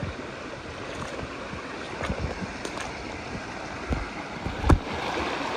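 Creek water on the Green River in North Carolina runs steadily below a waterfall beside a small pool, a constant broadband rush with a few louder splashes and knocks, including one near the end, and no talk.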